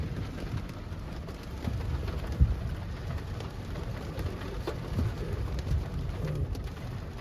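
Steady rain and gusting wind during a severe thunderstorm rolling into Frisco, Texas, a constant broadband rush with a few brief knocks and faint low rumbles underneath, no voices.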